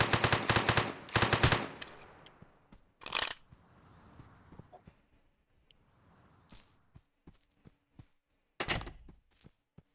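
Gunfire in the video game Dark Hours: dense bursts of rapid automatic shots at the start, then scattered single and short-burst shots with thuds and clatter, loud and close.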